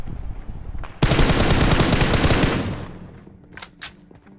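Sustained automatic gunfire from a mobile battle-royale shooter game, a loud dense burst of rapid shots lasting about two seconds that then fades, followed by a couple of fainter single shots.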